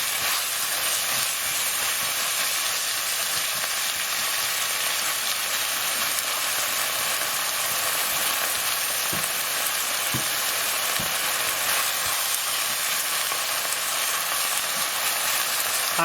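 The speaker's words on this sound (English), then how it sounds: "So we're going to want to get these onions nice and brown and right soft." Onions fry in a pan with garlic and ginger paste for chicken vindaloo, a loud, steady sizzle and hiss running unbroken throughout, with a few faint knocks beneath.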